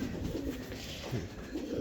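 A large, handsome pigeon coos in soft, low repeated phrases at close range, steady and alone without talk, over a faint outdoor background.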